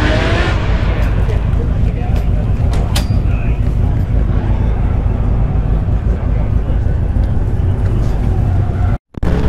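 A custom Corvair body on a 1978 Monte Carlo chassis with a small block 350 runs at a Hot Rod Power Tour car show, giving a loud, continuous engine roar that cuts out briefly near the end.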